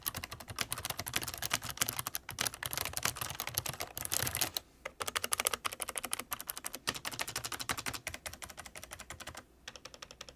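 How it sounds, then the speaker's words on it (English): Fast, steady typing on a Razer Ornata V3 mecha-membrane keyboard, with crisp clicky keystrokes close up and two brief pauses, no voices. "here's a quick typing test for y'all"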